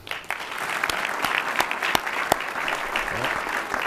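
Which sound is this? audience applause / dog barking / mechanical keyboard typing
audience applause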